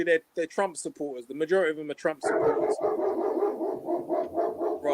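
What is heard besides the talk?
white German Shepherd dog barking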